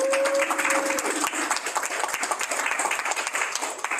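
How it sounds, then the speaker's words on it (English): An audience at a tide chart and grower's calendar launch on Guam gives a round of applause, dense, steady clapping with a few distinct sharp claps and a brief tone at the start. "Let's get a round of applause for them"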